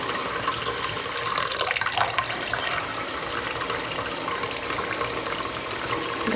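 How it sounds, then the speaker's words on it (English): Water pours steadily into a container while crystals are being cleansed, a continuous splashing rush that stays close and fairly even throughout, with no voices over it. "Let's put some more water in here."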